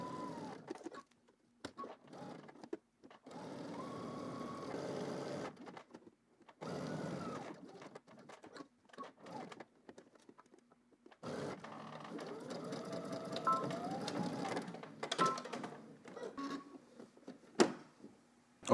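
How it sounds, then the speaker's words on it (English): A sewing machine stitches a polo shirt collar, running along one side, pivoting and crossing the top. It whirs in several sustained bursts separated by short pauses, close and steady. "now we're just going to head to the machine and we're going to stitch starting on one side, going up, pivoting across the top"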